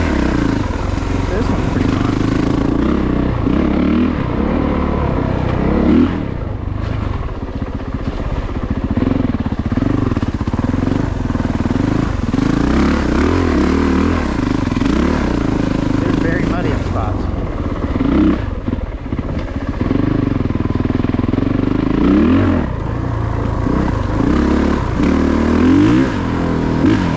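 A Honda CRF450RX dirt bike rides enduro single track, its engine revving and surging continuously up close with throttle blips, clatter and tire scrabble, while a rider's voice talks over it at times.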